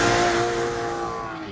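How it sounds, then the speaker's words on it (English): Exhaust growl from a 2014 Aston Martin Vanquish, loud and close, with a steady engine drone that fades slightly over a short stretch. "growl from the exhaust."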